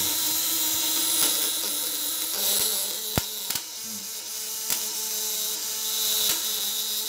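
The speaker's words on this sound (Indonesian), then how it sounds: "Getaran platina stabil, ini udah mulai kencang nih." Steady high-pitched electric buzz from the vibrating platinum contact points of a homemade 12-volt electric shocker with a 1 kg coil, droning continuously with a few sharp clicks as the setting is tightened.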